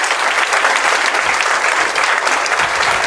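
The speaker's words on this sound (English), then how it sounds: "everybody please give a large round of applause to all of our candidates" A candidate forum audience breaks into dense, loud sustained applause, many hands clapping continuously at close range.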